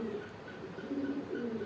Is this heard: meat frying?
no